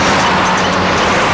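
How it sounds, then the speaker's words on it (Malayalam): A car on a rainy street, heard as a loud, continuous broadband engine and road roar close by with no talk. "വേഗം വണ്ടി എടുക്കണു."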